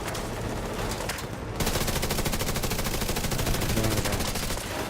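Sustained rapid automatic gunfire from a turret in The Division 2, loud and continuous with a steady rattling rhythm that grows denser partway through, heard on its own without talk.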